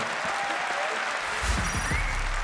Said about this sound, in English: Let's give them all a big one round of applause before they start